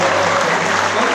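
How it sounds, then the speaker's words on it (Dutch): Dense, loud applause from a concert audience fills the moment continuously, a steady wash of many hands clapping together. "Ik had applaus."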